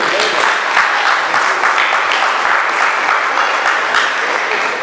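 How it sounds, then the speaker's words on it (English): A gathered audience applauds continuously, steady dense clapping from many hands throughout the short stretch with no pauses. "give yourselves a round of applause for being here"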